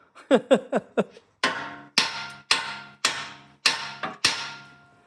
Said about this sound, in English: we give her a little thump with the special hammer